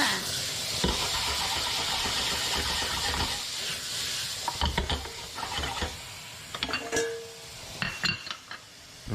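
Vegetables sautéing with a pinch of salt in a pan, a loud continuous sizzle and hiss close by, broken by clatters of utensils and pan movement.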